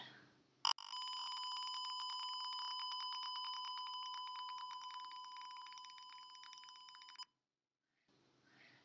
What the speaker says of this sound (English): the buzzer was beeping